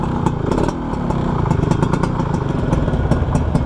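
A 1991 Suzuki Crystal motorcycle fitted with the wrong exhaust idles and revs close by, a loud, uneven, rattly engine and exhaust putter with clattery pulses and no talking.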